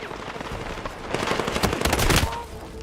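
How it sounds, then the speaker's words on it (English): Rapid bursts of automatic gunfire from a shooter video game, with dense rattling shots building to a loud peak before tapering off. "I don't like I have to shoot him twice with this gun."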